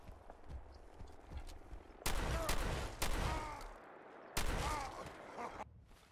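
Loud bursts of gunfire from the video game Fallout 4, with several heavy volleys of rapid shots separated by quieter stretches and scattered clicks.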